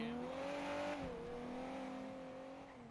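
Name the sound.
loud car driving off in video game GTA V NoPixel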